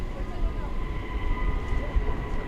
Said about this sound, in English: We interrupt the Venice flight to bring you the arrival of the Cathay Pacific A350-1000 from Hong Kong.